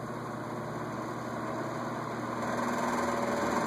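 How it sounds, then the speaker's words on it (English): An Eskimo box window fan runs on its low setting, making a steady, even whirring drone with a faint constant hum and no talking. "this was probably the quietest window fan we had"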